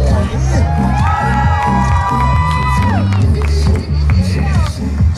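A crowd at a haunted-attraction contest cheers and whoops for a contestant, with loud, dense shouting voices sustained throughout over a steady thumping background beat.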